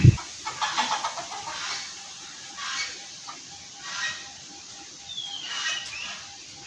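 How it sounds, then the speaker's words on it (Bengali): Native village chickens cluck in short bursts while feeding outdoors on a gusty, windy day. The clucks are moderately near, over a steady breezy background, with a single sharp knock at the start. "মুরগিগুলো এসে তাদের খাবার খাচ্ছে"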